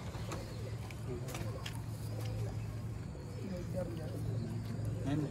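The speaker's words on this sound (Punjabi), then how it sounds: "ਇਹ ਪਿਓਰ ਹਾਲਤ ਦੇ ਵਿੱਚ ਦੋਸਤੋ ਕਰਨਲ ਕਬੂਤਰ ਹੈ" Colonel breed pigeons coo softly in low repeated calls. Someone talks over the cooing and keeps it partly masked, and a few faint chirps and background traffic are heard as well.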